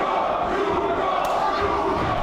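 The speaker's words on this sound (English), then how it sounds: "the fans cheering for Mirko Panic for the Yugo" Wrestling fans in an arena crowd cheer and shout for a wrestler, a steady dense roar with a sharp clap partway through and commentary underneath.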